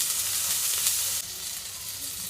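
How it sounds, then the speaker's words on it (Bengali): Ginger garlic paste and onions fry in hot oil in a pan, a dense, continuous sizzling hiss heard close and loud, easing slightly partway through. "আদা রসুন বাটা দিয়ে দিলাম। পেঁয়াজ কিন্তু ভালো করে ভেজে দিচ্ছি।"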